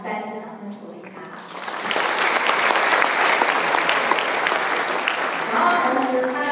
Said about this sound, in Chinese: 那我们再次掌声鼓励他